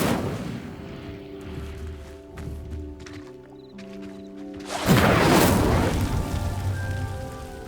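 Incendio fire spell cast in Hogwarts Legacy: a sudden loud burst of roaring, crackling flame erupting midway and sustaining over a tonal game soundtrack.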